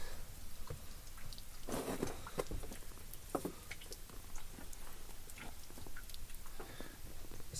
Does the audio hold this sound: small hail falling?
yes